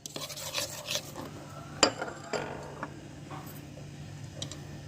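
A spoon stirring and scraping as whole cumin seeds, salt and baking powder are mixed together in a bowl for cumin biscuits, with light clinks and rubbing strokes heard close by and no talk.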